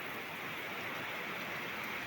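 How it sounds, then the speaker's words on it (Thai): Steady rain during a storm over rice fields, a faint, even hiss of falling drops with no voices. "ฝนตก"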